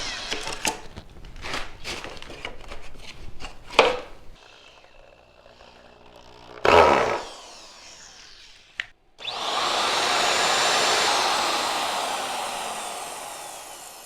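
A wood router cuts a joint in the timber framing of a vintage teardrop trailer. Clattering handling noises lead into a brief motor burst, then a loud, sustained whining cut runs through the final five seconds.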